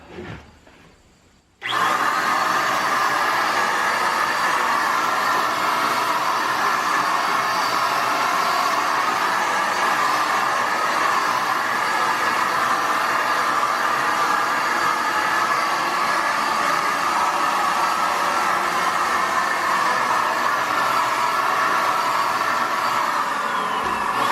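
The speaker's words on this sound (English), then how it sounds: "let's see what happens when we hit this with that red nozzle" A Tacklife electric paint spray gun fitted with a red nozzle starts abruptly after a short quiet moment, then runs with a loud, steady motorized whine and hiss up close for over twenty seconds without pause.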